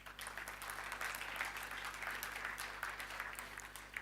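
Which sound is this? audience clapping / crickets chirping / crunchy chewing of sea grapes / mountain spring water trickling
audience clapping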